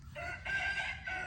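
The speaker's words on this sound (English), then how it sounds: "Do you hear that rooster in the background, Miss Nichols?" A rooster crows once, faint and distant, its drawn-out call standing out over quiet background noise.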